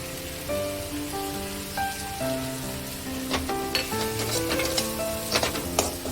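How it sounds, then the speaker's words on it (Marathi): Ginger garlic paste sizzles steadily in a hot pan while being roasted and stirred, a dense crackling hiss with scattered sharper pops, close and fairly quiet, no speech. "तर हे अद्रक लसूणचं पेस्ट भाजून घेत आहोत आपण"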